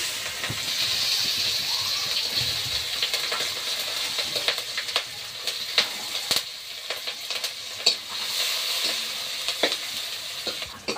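Onion and green chilli frying in oil in a home kitchen, a continuous close hissing sizzle broken by scattered clicks and scrapes of a spoon in the pan.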